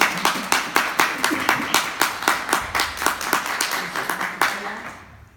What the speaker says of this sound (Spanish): Un aplauso para que lo tengan.